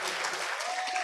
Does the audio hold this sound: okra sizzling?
no